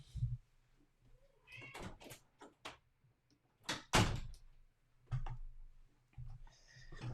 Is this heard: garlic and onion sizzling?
no